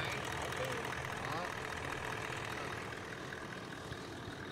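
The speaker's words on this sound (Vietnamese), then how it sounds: "Động cơ V8 cho anh chị nghe cái phần tiếng của động cơ ha. Động cơ dầu thôi nhưng mà như vậy là rất là im anh chị ha." A Toyota Land Cruiser GRX with a V8 diesel engine idles with a smooth, steady low rumble, heard up close and fairly quiet, with no irregular noises.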